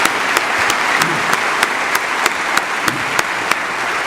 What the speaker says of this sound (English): Give them another round of applause for such a rousing.